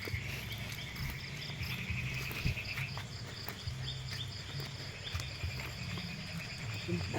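Night chorus of insects and frogs outdoors, a steady dense trilling and chirping with scattered calls, moderately loud and continuous with no talk.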